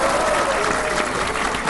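An audience at a Kavi Sammelan poetry gathering breaks into dense, continuous applause, close and steady throughout with no break.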